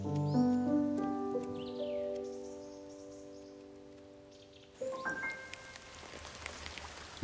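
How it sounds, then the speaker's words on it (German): Long-awaited rain falls in an oak forest, with a soft steady hiss of drops rising after gentle music fades out. "Dann endlich der langersehnte Regen."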